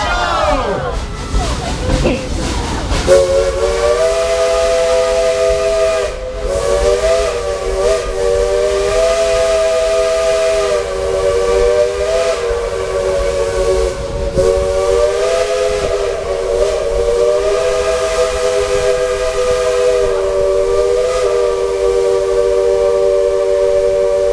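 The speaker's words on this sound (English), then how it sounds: "Would you like to hear Engineer Gillis play a tune on that old steam whistle?" The Dollywood Express steam locomotive whistle plays a tune, its loud, breathy multi-tone blasts shifting in pitch over several minutes of hissing steam, with crowd noise and brief shouting early on.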